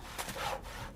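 Short burst of rasping, scraping strokes like a saw cutting wood, two or three quick pulls, fairly faint and heard alone, a sound effect on a live radio show.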